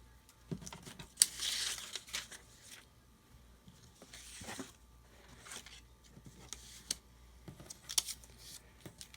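Scissors snip paper while fussy cutting a junk journal embellishment from a pocket calendar, giving close, quiet irregular snips and crinkly rustles of the paper in scattered bursts.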